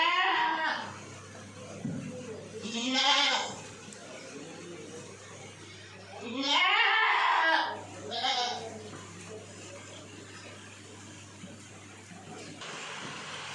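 Sojat goats at a goat farm in Raipur, Pali, Rajasthan, bleat in several loud calls over steady outdoor background noise, with speech now and then.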